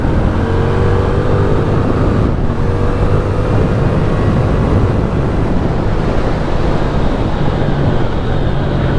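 A Hyosung Aquila GV300S, a small-capacity motorcycle with ABS front and rear, riding along country back roads in the UK, its steady engine drone buried under constant loud wind rush, with no pauses throughout.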